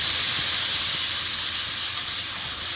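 Water poured into a hot cooking pot with tomato paste, sending up a steady, loud broadband hiss of steam that holds evenly throughout with no pause, no talk over it.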